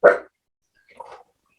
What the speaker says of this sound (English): I have to tell my dog to be quiet.